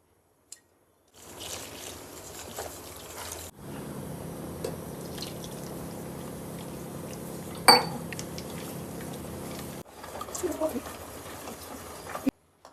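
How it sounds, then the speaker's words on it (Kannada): Water is added to dhokla batter in a bowl and stirred, giving soft liquid sloshing and dribbling along with scattered light clinks of a spoon against the bowl. The stirring is quiet and close, in stop-start bursts. "ಇವಾಗ ನೀರು ಹಾಕಿ ಕಲಿಸ್ಕೊಡೋಣ."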